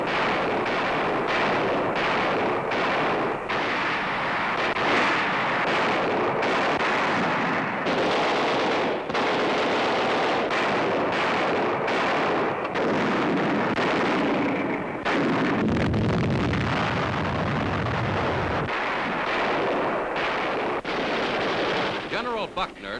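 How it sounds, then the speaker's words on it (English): WWII Pacific War artillery barrage from newsreel footage: a dense, continuous roar of heavy guns with repeated booming blasts and rumbling impacts, loud and sustained throughout. "the heaviest artillery battles of the Pacific War are raging"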